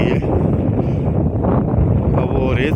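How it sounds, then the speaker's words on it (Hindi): Strong mountain wind on a hillside track near Skardu roars and buffets the microphone in loud, continuous gusts with low rumbling surges. "मौसम एकदम ख़राब हो गया है, तेज़ हवाएं चल रही हैं"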